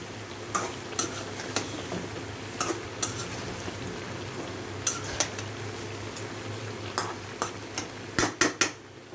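Potatoes in a frying pan with onion, chili and tomato are stirred over a low, steady sizzle, with sharp metal clinks and scrapes of the spoon against the pan at irregular intervals.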